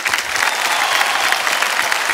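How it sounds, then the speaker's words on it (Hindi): A television quiz show studio audience bursting into dense, loud, continuous applause for the contestants, close and sustained without pause. "तालियां बज जाएं इनके लिए।"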